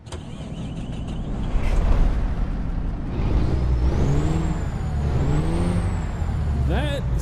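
A Caterpillar heavy truck engine in American Truck Simulator cranks and rumbles to life, its low roar rising and falling with whining pitch sweeps as it revs.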